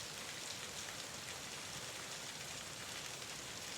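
Rain falls steadily in a soft, even hiss, a continuous wash of droplets with no voices or other sounds.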